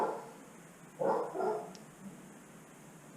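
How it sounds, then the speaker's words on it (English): Dogs barking out a house window from a nearby bedroom, a couple of muffled bursts of barks at moderate distance, then quieter yips fading away. "The dogs have moved to my daughter's bedroom, which is right there, to bark out the window now."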